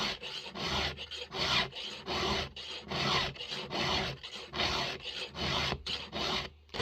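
A hand file rasps across a burred chainsaw chain during sharpening, a close, steady run of rhythmic strokes, each push a loud gritty scrape separated by short pauses, with no talking.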